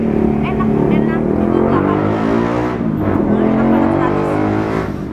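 Touring motorcycles rumble past on a night street in Tegal, a loud, close engine drone with wavering pitch that swells and fades as the bikes go by, with a brief dip midway.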